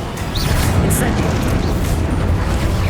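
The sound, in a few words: Incendio fire spell blast in Hogwarts Legacy video game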